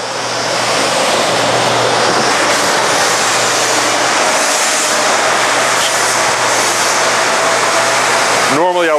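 A large Model 2054 bandsaw with a manual table and a 2 horsepower motor cutting a big block of 2 pound per cubic foot insulation foam, a loud, close, continuous roaring rush that holds steady to the end.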